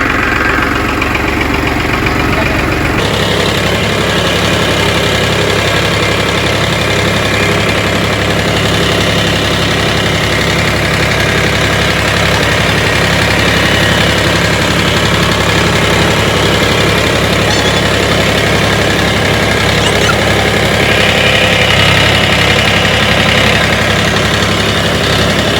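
A tractor engine runs at a building site. A loud, continuous, rumbling drone with a steady idling throb plays close by throughout, with no voices.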